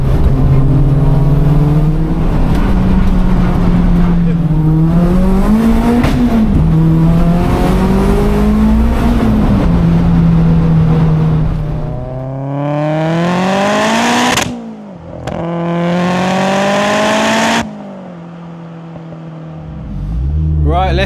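A 460bhp Mk2 VW Golf G60 Rallye engine revs and accelerates loudly up close, its pitch climbing and falling through several pulls, then sharp cuts as throttle lifts and rises again before settling near the end.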